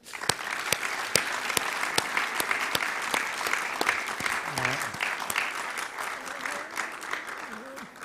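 Audience applause at a university class reunion, steady and dense clapping from a large crowd filling the room, with a few faint voices murmuring underneath.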